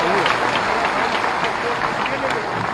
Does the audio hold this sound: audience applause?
yes